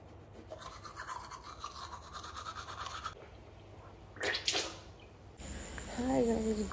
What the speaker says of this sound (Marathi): मी आता ब्रश करणार आहे.